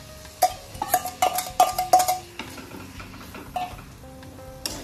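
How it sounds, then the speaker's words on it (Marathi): Prawns frying in hot oil and masala in a Malvani-style kitchen, a steady sizzle broken by a series of sharp metallic clinks from stirring in the pan in the first half, then quieter frying. "गॅस फुल करून ती छान फ्राय करून घ्यायची मसाल्यामध्ये"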